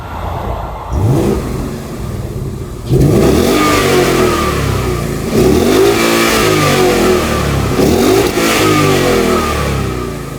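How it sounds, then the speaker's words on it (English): Ford Mustang GT with a 5-litre V8 and stock exhaust revving loudly up close, several rising and falling throttle blips over a steady engine drone, no voices. "So let's hear what it sounds like now."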